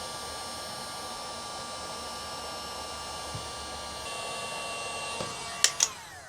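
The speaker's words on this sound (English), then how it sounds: "now we're just gonna hit it with the heat gun" Heat gun blowing steadily to shrink heat shrink tubing on trailer wiring, a constant close whooshing fan-and-air roar throughout, with a couple of brief sharp clicks near the end.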